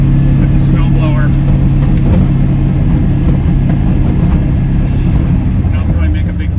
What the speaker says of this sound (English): I kind of do the edges with the snow blower.